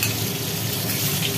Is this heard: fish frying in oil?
yes